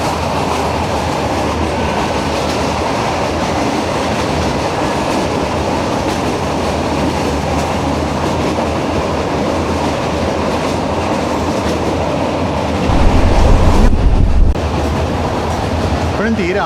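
Interior of a lightly occupied meter gauge passenger train running from Junagadh to Veraval through Gir Forest, with a steady loud rumble of wheels and carriage throughout and a brief heavier roar near the end.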